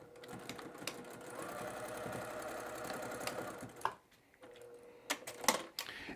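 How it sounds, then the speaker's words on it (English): A sewing machine runs a basting stitch across a fabric appliqué candy bag, a steady close mechanical whir with rapid needle clatter for several seconds, then stops and restarts in short bursts. "it over to your machine and do a basting stitch across it."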